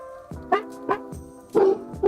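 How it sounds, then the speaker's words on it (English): A pet dog barks at a neighbor indoors, four or five sharp, close, loud barks in an uneven rhythm with short gaps between them. "Fur baby, it's the neighbor. You don't have to bark, darling."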